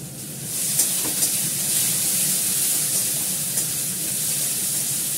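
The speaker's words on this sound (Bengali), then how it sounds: "দেখো আমার পেঁয়াজটা লাল করে ভাজা হয়ে গেছে" Onions sizzling in hot oil in a pan for Bengali-style dal, a continuous bright hiss with occasional pops and stirring, close and fairly loud, with no talk.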